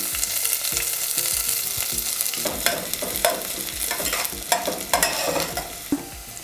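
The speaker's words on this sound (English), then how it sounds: "Now I'm adding the onions." Onions sizzle in hot oil with curry leaves and fennel seeds for sambar, a loud, steady crackling fry broken by repeated scraping stir strokes and spoon knocks against the pan.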